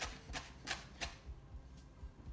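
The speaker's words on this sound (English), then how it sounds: "We want to chop it neat." A knife chops fresh parsley on a chopping board for a fish pie, several quick sharp close taps in an uneven rhythm that grow fainter toward the end, with no talk.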